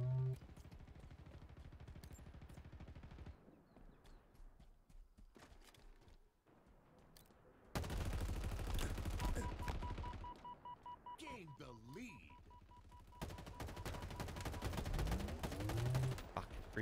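Battlefield 2042 gunfire comes in dense bursts of automatic shots, loud and close, with quieter gaps between fusillades. A player talks over parts of the firing.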